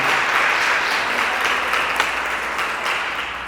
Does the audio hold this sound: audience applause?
yes